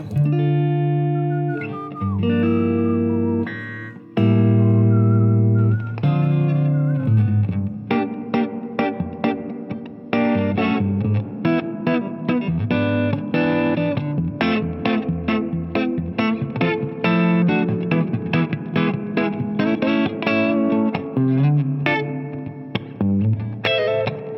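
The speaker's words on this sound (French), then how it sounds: "qu'est-ce que tu ne peux pas faire avec une reverb à ressort?" A guitar plays chords and picked notes drenched in a splashy, springy reverb, steady and fairly loud with no voices.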